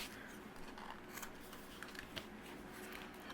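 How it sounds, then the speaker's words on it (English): Scissors trim excess overhanging patterned paper for a handmade card, giving soft, close snipping and rustling sounds spread through the moment with small crisp peaks. "Any excess overhanging, I'll trim off with my scissors."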